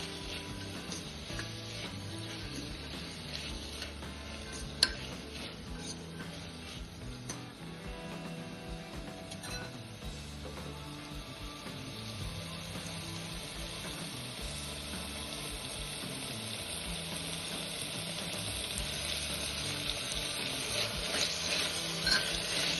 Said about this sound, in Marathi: साधारण 5 ते 7 मिनिटं हा पावटा चांगला परतून घ्यायचा आहे